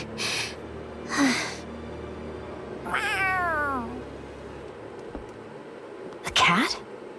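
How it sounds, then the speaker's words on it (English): A cat in the Tales of Arise video game gives a clear, drawn-out meow with a falling pitch, close and fairly loud, between brief breathy vocal sounds and gasps from characters. "A cat? Where'd it come from?"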